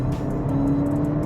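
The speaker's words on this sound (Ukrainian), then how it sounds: "цікавий е, момент це звук двигуна" Low, steady engine hum of a VW Golf GTE plug-in hybrid with a 1.4 engine, played through the car's speakers, a close, constant drone with a faint tonal whine and no voices.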